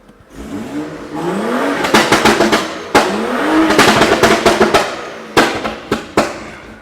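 A BMW M3 engine revs up repeatedly with a rising roar, broken by sharp exhaust pops and crackles, loud and near.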